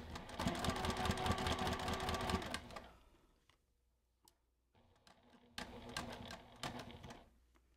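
A home sewing machine stitching fabric for a mug cozy, a fast, even mechanical chatter that runs loudly, stops for a quiet pause with faint clicks, then starts again in shorter bursts.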